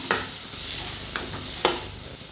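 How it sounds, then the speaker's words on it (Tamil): Curry leaves and coriander sizzle in a hot pan as they are stirred, a steady close frying hiss broken by three sharp scraping strokes of a spoon, with no talking. "கருவேப்பிலை கொத்தமல்லி சேர்த்து 1 நிமிஷம் மட்டும் வதக்கி விட்டால் போதும்."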